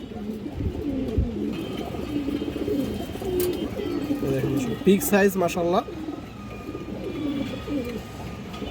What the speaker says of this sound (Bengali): ফুল ফ্রেশ কবুতর।